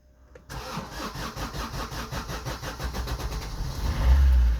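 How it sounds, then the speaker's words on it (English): A Vauxhall Corsa D with a worn, weak battery and a DPF differential pressure sensor fault cranks briefly, catches, and settles into a close, steady idle that swells slightly at the end. "so we'll start the car"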